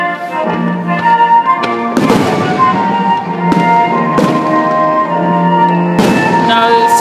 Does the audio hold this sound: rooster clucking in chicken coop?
no